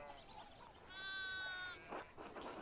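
Sheep bleat in the video game Pentiment: one loud, wavering bleat stands out clearly, with faint bleats before it and softer rustling and murmuring sounds afterward over low background ambience.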